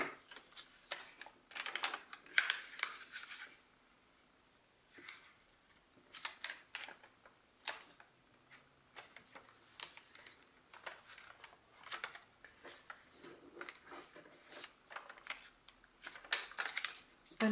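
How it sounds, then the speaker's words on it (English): Soft creases and sharp paper snaps repeat at irregular intervals as a square sheet is folded into an origami envelope, quiet and close with no voice. "we are going to create a fold from this point to here, by bringing this point to this point"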